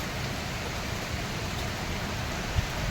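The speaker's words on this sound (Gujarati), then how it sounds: "હવે આ વરસાદ બંધ થાય તો અમે જઈએ." Rain falling as a steady, even wash of hiss with one brief soft knock near the end; no voices.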